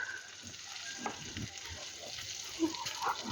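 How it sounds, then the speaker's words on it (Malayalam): Cut paneer frying in butter in a pan, a soft steady sizzle with light stirring scrapes, faint and close. "പനീർ അതിലേക്ക് ഇട്ട് കൊടുക്കാം."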